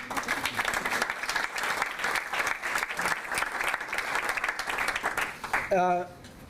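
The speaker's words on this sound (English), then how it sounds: "maybe you give a applause" Audience applause at a Kristallnacht history conference, many hands clapping steadily and fairly close before breaking off near the end, where a voice begins to speak.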